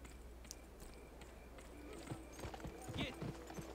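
Horse hooves clip-clop in the western video game Gun, a quiet run of uneven hoofbeats that grows a little louder and busier toward the end, with faint game sounds around them.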